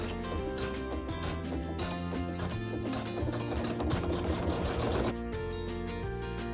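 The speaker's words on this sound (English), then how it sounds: "you'll just hit the start button and it'll sew the satin stitches and some little" A Navigator embroidery sewing machine stitching satin stitches and light quilting, running continuously with a loud, dense mechanical whir and rapid needle rhythm, close up and without voices.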